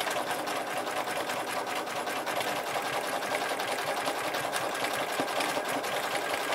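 An embroidery machine stitching dark gold thread as an underlay, a steady fast mechanical needle chatter that continues evenly throughout, close and fairly quiet, with no voices.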